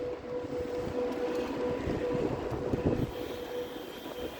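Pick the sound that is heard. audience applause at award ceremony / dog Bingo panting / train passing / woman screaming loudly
train passing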